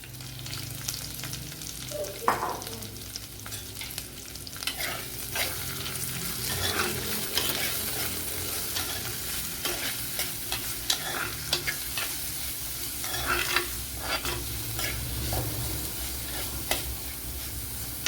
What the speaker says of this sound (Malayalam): ഇതിലേക്ക് ഇനി സവാള കൂടി ചേർത്ത് കൊടുക്കുക.